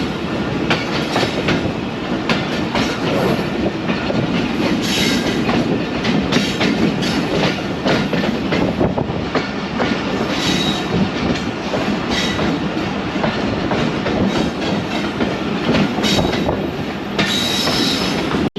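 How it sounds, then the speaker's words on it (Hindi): Badar Express passenger train slowing near a station: a loud, steady roll of wheels on rails with rhythmic clickety-clack and occasional squealing, continuous throughout from inside the carriage. "दोस्तों ट्रेन स्लो हुई है, लगता है कोई स्टेशन आया है।"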